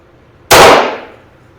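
A single sharp crack from a 1926 Hartford single-shot .22 LR target pistol fired indoors, close and loud, with a short ringing decay in the room.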